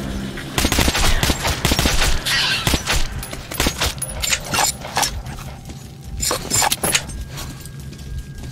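Gunfire in the video game Metro Last Light Redux: a dense, loud stretch of rapid automatic bursts and sharp shots with metallic clatter, continuing throughout with no pause.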